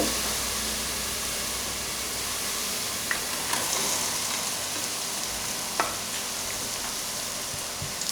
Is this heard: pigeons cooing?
no